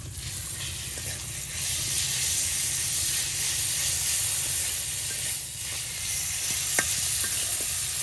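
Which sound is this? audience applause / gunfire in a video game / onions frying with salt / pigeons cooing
onions frying with salt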